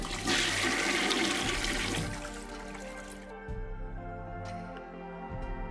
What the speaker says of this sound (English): I need to do that with the toilet sound too.